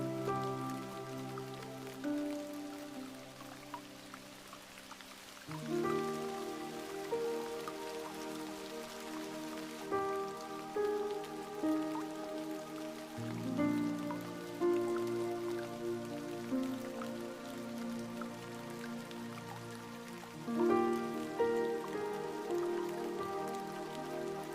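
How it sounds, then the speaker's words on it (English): Steady rain falls softly beneath a quiet, sustained ambient music drone whose chords shift every few seconds, the patter constant and gentle throughout. "Begin again with the sound of rain"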